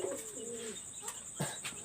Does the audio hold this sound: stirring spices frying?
no